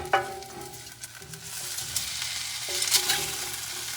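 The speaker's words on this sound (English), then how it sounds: "I'm going to flip this steak, this New Year's steak." Steak sizzling steadily on an indoor grill as it is flipped, a broad continuous frying hiss with a sharp flare near the start and small crackling pops throughout, close and fairly loud with no talking.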